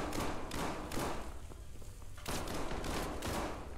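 Enemy gunfire in the video game SCP: 5K, rapid clustered shots in a few bursts separated by short gaps, fairly quiet and somewhat muffled, with no talking.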